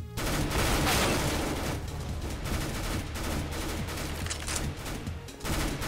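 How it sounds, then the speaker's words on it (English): Rapid submachine gun fire from a P90 in the video game CS:GO during an arms race round, dense bursts of shots running nearly nonstop at close range with no talk. "I killed a guy with my P90"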